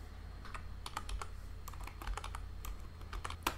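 Typing on a computer keyboard, a quick irregular run of light clicking keystrokes close by and fairly quiet, with no talking.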